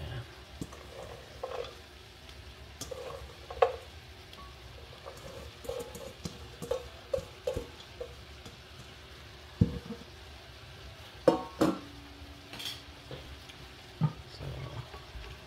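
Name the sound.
stirring vegetables with carrots in a pan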